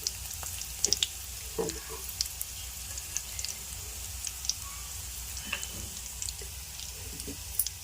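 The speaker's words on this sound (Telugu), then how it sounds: "ఇప్పుడు ఇదిగోండి జీలకర్ర వేసాను. ఇప్పుడు ఆవాలు చూసారుగా, ఆవాలు వేసాను." Cumin and mustard seeds hit hot oil with a soft, continuous sizzle and scattered sharp pops and crackles, the spatter faint and nearby.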